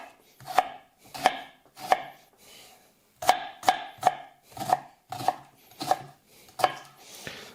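An onion being diced with a knife on a cutting board: a dozen crisp, evenly spaced chops close to the mic, with a short pause partway through, no voices.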